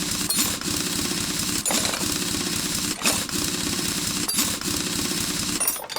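A rusty bolt is worked loose with a mechanical ratchet in Car Mechanic Simulator 2021, giving a steady whirring grind broken by sharp periodic clicks about every second and a half, loud and close with no voices.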